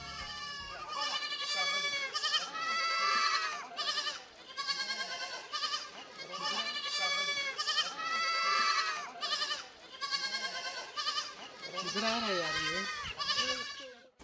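Goats bleating on a goat farm raised for milk, many overlapping wavering bleats from several animals calling almost continuously, loud and close, with no speech.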